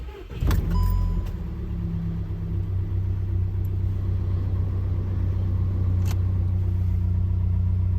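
A Volkswagen Tiguan engine with a motor mount spacer fitted cranks and catches, then settles into a steady low rumbling idle that carries on for several seconds.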